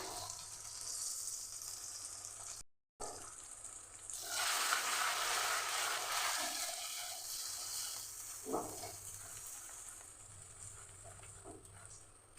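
Beaten eggs hit a pan of fried onions for egg bhurji, and a loud, broad sizzle swells after a short silence and then holds steady under a few soft scraping stirs.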